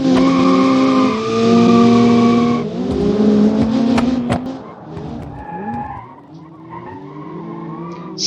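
Race cars launch together at the start of a folk race in the video game Automation, engines revving hard and tires squealing as the pack pulls away. The loud roar swells, then thins into scattered engine notes and skids.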